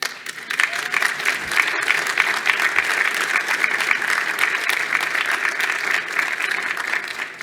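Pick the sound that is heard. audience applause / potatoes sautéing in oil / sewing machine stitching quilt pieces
audience applause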